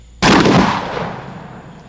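A 12 gauge Dragon Slug incendiary shotgun round fires with one sharp, loud blast that decays over about a second and a half into a fading rumble, with no voices.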